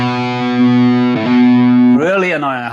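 High-gain distorted electric guitar with an annoying resonance around 250 Hz, a thick sustained chord that breaks briefly and rings again before shifting into a bending lead phrase, loud and close with no talk.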